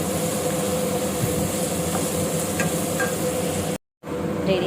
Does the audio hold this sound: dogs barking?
no